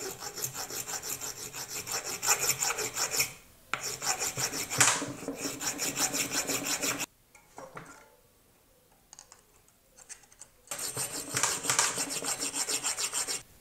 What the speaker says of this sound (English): if we didn't file something. I think I can take just like half a millimeter down on each one of these